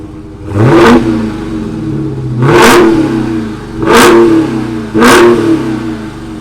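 A 2021 Dodge Charger SRT Hellcat Redeye Widebody's supercharged engine rumbles close by at idle, broken by four sharp throttle blips at a steady rhythm, each rising to a loud roar and settling back.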